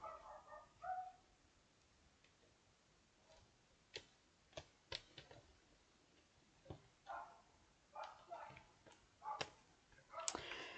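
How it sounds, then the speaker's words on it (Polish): Dog barking outside a window, faint and distant, a scattered series of short yelps and barks with some ticking sounds over a quiet room. "Pies czeka za oknem. Chyba wy go też słyszycie"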